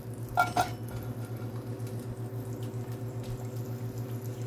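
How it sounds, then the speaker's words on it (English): A spoon clanks twice against a pot of cooked green beans, then a low steady hum and faint liquid bubbling carry on alone nearby. "Give it a stir."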